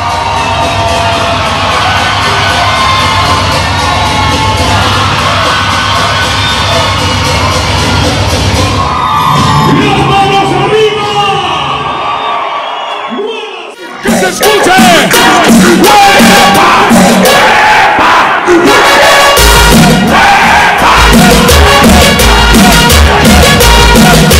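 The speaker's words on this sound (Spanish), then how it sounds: "Los gritos que hacen hacia tu persona." A concert audience shouting and cheering loudly for a performer, a dense continuous roar of many voices that briefly dips and then surges back even louder.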